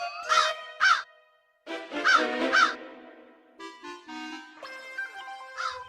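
A crow caws repeatedly in an animated folk story scene, harsh calls arriving in pairs and clusters at close range, followed by bright musical tones with no talking.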